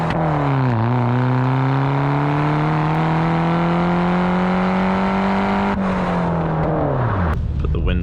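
A BMW 118i F21 with a modified exhaust, back box and resonator removed, drones loudly from the cabin at night, its engine note rising and falling between gears before easing off, with faint talk underneath.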